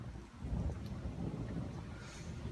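Thunder from a passing summer thunderstorm in Amboise, France rolls as a low, faint, continuous rumble, with a light wash of rain or wind in the background.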